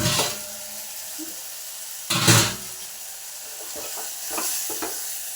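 Stirring spices into a pan with chilli powder and coriander powder: a faint scraping, sizzling stir with one louder burst in the middle and a few light taps toward the end, no voices.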